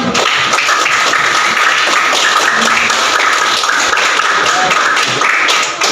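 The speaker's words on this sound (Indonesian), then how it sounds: "Berikan tepuk tangan." A room full of students claps loudly and continuously, close and dense rapid hand claps filling the whole stretch before cutting off at the end.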